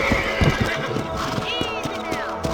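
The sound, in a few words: horse neighing in the video game Red Dead Redemption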